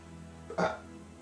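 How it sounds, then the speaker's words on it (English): A single short burp erupts from a man mid-recording, one brief throaty burst standing out against a quiet room tone. "Apologies for my burp. That was disgusting."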